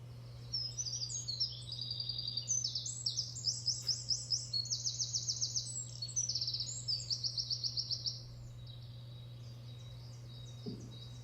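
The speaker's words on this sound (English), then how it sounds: "One of the most relaxing things that you can hear is birdsong." Birdsong rings out in repeated bright, rapid chirping phrases over a steady low hum, fairly close and clear, with no voices.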